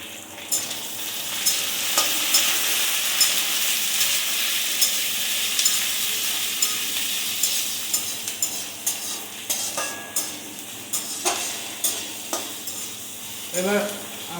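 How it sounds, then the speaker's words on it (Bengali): Onions fry in ghee with garlic in a pan for litti chokha, a continuous close sizzle with regular scraping stir strokes building toward the end, no voices. "এবার আমরা পেঁয়াজকে ফ্রাই করবো ভালো মতন।"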